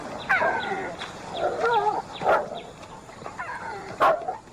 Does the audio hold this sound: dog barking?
yes